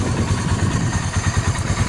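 A salvaged Sunl off-road go-kart engine runs steadily at idle, a close, rough, pulsing chug with a fast even rhythm and a mechanical clatter riding on top.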